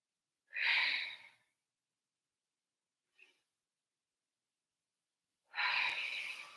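Two breathy exhalations during a pregnancy yoga class, one at the start and a longer one near the end, each soft and close, with a faint tiny puff between them and otherwise silence.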